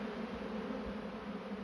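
A honeybee swarm crawling back into its hive, a steady, dense buzzing drone from many bees close by, continuous and even throughout.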